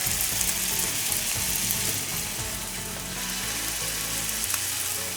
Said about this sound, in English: now I'm going to let this side fry